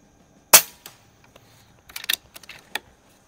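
An Air Venturi Avenger air rifle fires a JTS dead center pellet at 50 yards: one sharp, loud crack, then a cluster of fainter metallic clicks and ticks as the action is worked.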